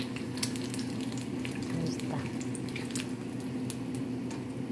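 An egg fries in oil with a dense, crackling sizzle full of rapid spattering pops, steady and close throughout with no talking.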